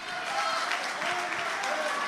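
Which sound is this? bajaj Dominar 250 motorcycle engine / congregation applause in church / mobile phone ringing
congregation applause in church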